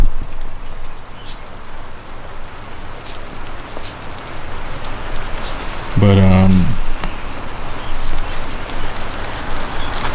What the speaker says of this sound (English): it's raining. It's coming down pretty hard right now